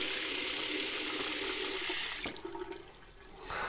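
Water runs steadily from a bathroom tap into a sink while rinsing after a wet shave with an adjustable single-edge safety razor, a loud hiss that is briefly disrupted, then drops off and returns.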